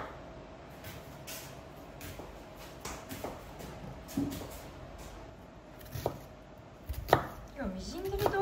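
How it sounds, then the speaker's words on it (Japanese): A knife mincing food on a cutting board taps out quick, irregular chops, fairly quiet and close, with a few louder knocks near the end. "じゃあ、みじん切りにしていきます。"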